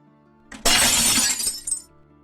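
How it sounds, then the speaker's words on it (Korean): A glass window shatters in one sudden loud crash, with bright scattering shards for about a second, then a brief tinkling tail before quiet. "거실 유리창 깨지는 소리가 울려 퍼졌고"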